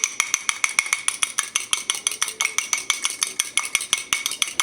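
Egg yolk stirred briskly in a bowl, with a utensil clicking against the side in a fast, even rhythm of about six strokes per second, close and clear with no talking.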